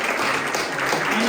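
Church congregation applauding mothers who stand during a Mother's Day service, a dense steady wash of clapping that fills the room evenly from start to finish.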